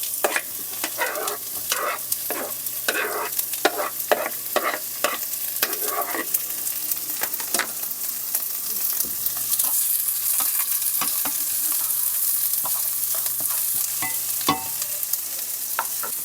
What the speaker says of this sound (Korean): 기름을 다시 약간 좀 더 붓고 양파를 볶아줄게요